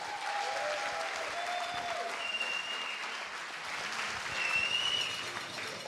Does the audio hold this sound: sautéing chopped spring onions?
no